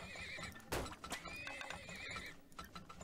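Horses neigh in the video game Turmoil, with a loud burst of whinnying, short neighs and snorts over soft clip-clop hooves, close and clear with no talk.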